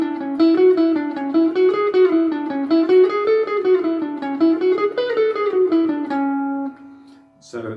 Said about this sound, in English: if you do it as a more metronomic exercise, it would sound like this